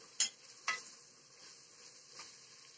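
Meat sautéing in a pan for a beer meat sauce, a faint steady sizzle beneath a couple of sharp utensil stirs and scrapes against the pan.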